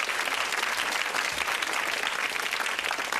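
A large television game show studio audience claps continuously and enthusiastically, a dense, steady wave of applause filling the room.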